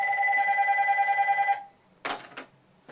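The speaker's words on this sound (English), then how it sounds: "That's the phone going off." A telephone rings loudly and steadily in a quiet room for about a second and a half, then cuts off, followed by a couple of brief handling clunks.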